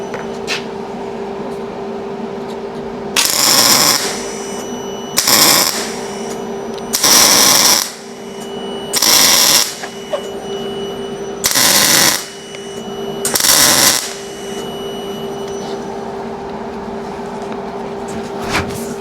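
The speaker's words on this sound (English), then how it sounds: "I'm just going to get a little bit of weld going in there" A worn linkage slot on a Ferguson TEA20 tractor being built up with a welder and grinder. Six short, loud bursts of crackling weld arc come at fairly regular intervals, each lasting about a second, close up with no talking.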